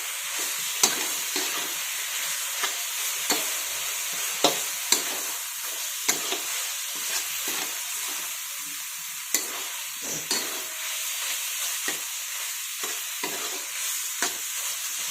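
Paneer bhurji with coriander being stirred and mixed in a pan over low heat, a soft steady sizzle broken by repeated spatula scrapes and taps at irregular intervals.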